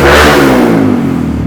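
Honda Grom motorcycle fitted with a cheap AliExpress exhaust revving hard: a very loud, close, raspy burst that peaks at once and then falls away in a slowing growl, alone.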